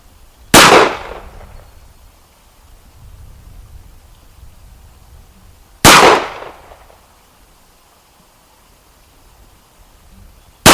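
A CZ 75 SP-01 pistol fires shots outdoors: two loud, sharp cracks about five seconds apart, each with a quick decaying echo, and a third shot begins at the very end.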